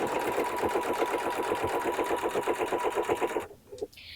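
A sewing machine stitches down quilt binding with a rapid, even needle chatter for about three and a half seconds, then stops, leaving faint handling noises.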